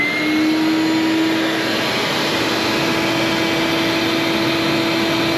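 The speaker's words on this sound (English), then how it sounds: "Let's power up the shop vac and see what that does." A shop vacuum powered by a solar inverter runs loud and steady throughout, a constant whining hum with a sustained tonal pitch and no voices.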